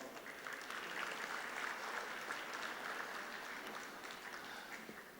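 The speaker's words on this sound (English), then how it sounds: "Give yourself a round of applause." An audience at a Deepavali open house for a chamber of commerce claps in a steady round of applause, a dense patter of hands that tapers slightly near the end.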